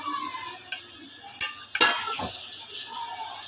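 Pumpkin halwa being stirred in milk in a pot, with soft scraping strokes and a few sharp clinks of a spoon against the pan near the start and middle over a quiet, faint sizzle.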